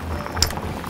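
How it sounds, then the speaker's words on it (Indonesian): Red bean soup boiling in a pot on the stove, soft continuous bubbling with a brief louder pop near the middle, quiet and close. "Nah, ini sudah mendidih ya."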